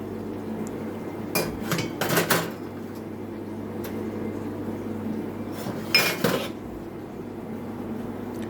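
Spoons clinking against a cup: two brief clusters of sharp metallic taps and clatter, close and distinct, separated by quiet room hum, with no talking.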